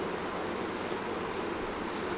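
Many bees buzz in a dense, steady drone around a swarm trap, close and continuous with no talking.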